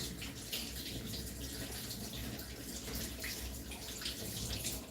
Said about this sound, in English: So I'm washing my lemon.